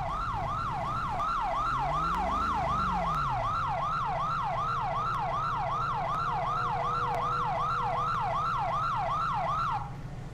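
An ambulance siren in GTA V with the LSPDFR police mod wails in a fast repeating up-down yelp, loud and steady for about ten seconds, with a deeper swooping tone and engine hum underneath early on.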